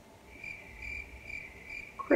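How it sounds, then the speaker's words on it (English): Crickets chirp in a steady, quiet, high pulsing trill, with no other sounds until a brief thump at the very end. "Crickets."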